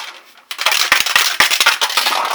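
A protein shake blender bottle with a mixing ball inside is shaken hard after a short quiet start, giving a rapid, loud rattle of knocks and clinks close by.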